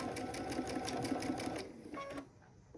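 A sewing machine runs in a steady fast whir while stitching 1.5-inch quilt strips to 2.5-inch strips, loud and close, then slows and stops near the end with a few softer clicks.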